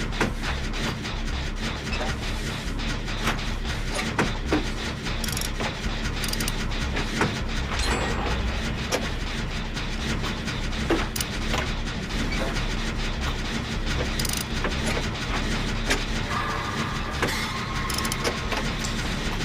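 A generator being repaired in the game Dead by Daylight gives off continuous mechanical clanking and ratcheting gear noise, steady and fairly loud for the whole stretch with no talk over it.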